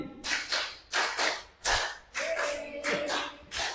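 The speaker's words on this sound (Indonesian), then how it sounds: "Oke, tepuk 5 2 kali." A group claps in a rhythmic clap-five pattern during a teachers' session, with about seven loud, sharp bursts of clapping arriving in a steady beat and a faint voice in the background.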